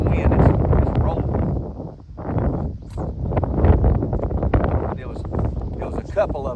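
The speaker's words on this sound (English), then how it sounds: "You can hear the wind, it's rolling." Wind gusting and rolling across open water during a bass fishing trip, a steady broadband rush with buffeting surges close to the microphone and a brief lull partway through.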